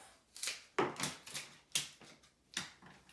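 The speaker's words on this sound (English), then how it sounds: "all the flowers, so I'm just gonna trim these off" Flower stems being trimmed for event decorating, a series of about six crisp snips at an uneven pace, close and alone without talk.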